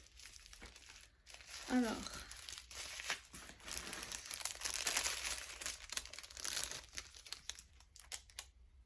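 Close crinkling and tearing as a watch package is opened with scissors, the rustling and snipping coming in uneven bursts, with a brief spoken word early on.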